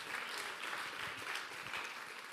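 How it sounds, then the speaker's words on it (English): Applause from an audience at the opening of the European Greens Congress in Vienna, a steady, faint patter of clapping heard from a distance with no talk over it. "Yes, applause."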